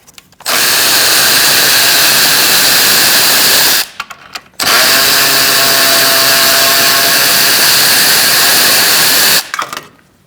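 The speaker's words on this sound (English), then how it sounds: "Now let's undo these bolts here with a 13mm socket." Power tool loosening 13mm bolts on a 2016-2019 Chevrolet Cruze 1.4L radiator: two long, loud continuous whirring bursts, close by, with a brief pause between them.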